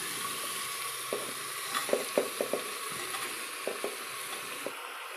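Dhaba-style potatoes and eggplant fry in a pan with a steady sizzle, while a spoon stirs through them with a series of soft scraping clicks close by.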